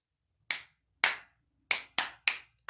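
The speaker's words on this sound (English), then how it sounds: "can I clap above my head?" Hands clap above the head during a toddler circle time, six crisp, close single claps at uneven intervals, each ringing briefly in a quiet room.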